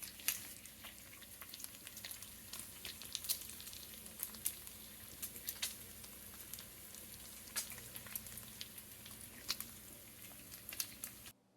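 Home-cured, smoked sweet maple bacon frying in a pan gives a soft, steady sizzle sprinkled with small crackles and pops, faint and without voices.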